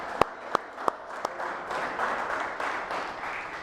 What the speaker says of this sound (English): clap it up for your classmates coming up.